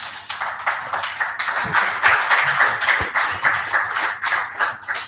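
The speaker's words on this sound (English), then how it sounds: "Let's give them a round of applause, please." An audience applauds panelists at a policy dialogue on Nigeria's economic growth and climate action. The dense, steady clapping from many hands holds at an even level for the whole stretch.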